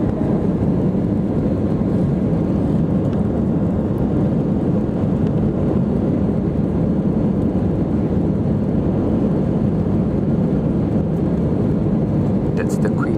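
Inside the cabin of a British Airways Airbus A319 jet climbing out of London Heathrow, a loud, unbroken, steady engine and airflow roar fills the air.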